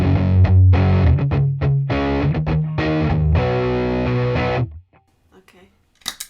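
Electric guitar played through a pedal that blends clean and high-gain amp tones, giving a thick, distorted chordal riff with choppy rhythmic stops, loud and close, before cutting off into near silence with faint handling noise.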